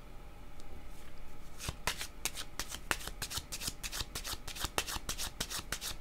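Tarot cards being shuffled, a quick run of crisp riffling flutters repeating rapidly and close by after a quiet start, with no talk.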